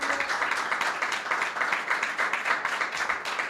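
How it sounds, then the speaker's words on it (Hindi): A church congregation applauds together in steady, dense clapping that holds at an even level throughout, with no voices standing out above it. "यीशु मसीह के लिए तालियां बजाएं कलीसिया।"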